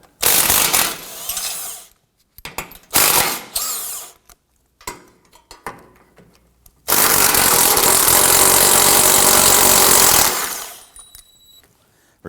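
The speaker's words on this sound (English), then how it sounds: "Now we're going to be using our 13mm socket, and we need to loosen and remove these." Power tool and ratchet with a 13mm socket loosening splash shield bolts on a 2003-2014 Volvo XC90 3.2L, in loud close bursts of whirring followed by a long sustained run, with short clicky pauses between.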